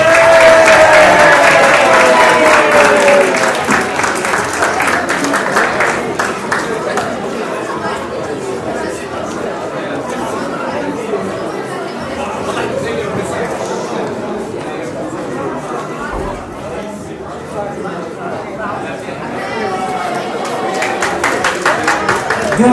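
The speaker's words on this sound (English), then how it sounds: "Give him a round of applause" An audience at an awards night applauds, loud sustained clapping mixed with crowd chatter that fades to a softer murmur before clapping swells again near the end.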